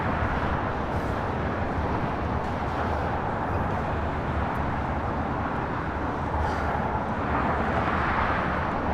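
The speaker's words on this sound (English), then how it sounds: "It's Japan Airlines Flight 69 taking off to Osaka on the" A Japan Airlines Boeing 787-9 Dreamliner taking off at LAX, a broad continuous jet roar that stays steady and fairly loud throughout with no talk.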